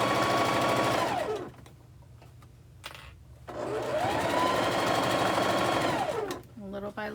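A sewing machine runs in two steady bursts while stitching quilt fabric, with a short pause between them and a brief quieter stretch at the end.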